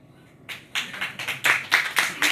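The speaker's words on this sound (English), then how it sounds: "So big applause for that." Audience at an IBM data and AI forum breaking into applause: sparse claps that start after a short silence and build into a scattered, moderately near round of clapping over a couple of seconds.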